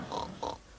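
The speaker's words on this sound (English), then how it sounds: "Pigs." A pig gives two short, soft oinks about a third of a second apart. They are faint and nearby, with a quiet pause after the second grunt.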